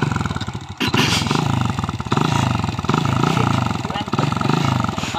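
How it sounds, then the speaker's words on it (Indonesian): A Honda Supra X motorcycle engine starts and settles into a loud, rapid, steady idle with a throbbing pulse, running continuously after a brief starting burst, with a voice speaking over it. "coba kita nyalakan teman-teman semua motornya"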